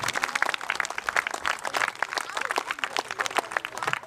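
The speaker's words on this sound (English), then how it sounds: "Give them a round of applause to the MP40s." Dense, steady clapping from an outdoor crowd at a wartime reenactment weekend in Northallerton, 2013, rises after a weapons display and carries on evenly without a break.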